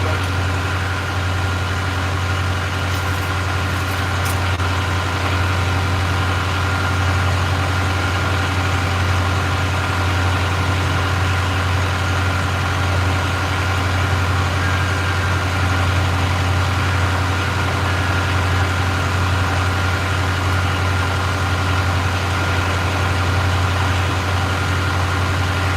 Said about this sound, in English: Good thing I got a 4-cylinder engine.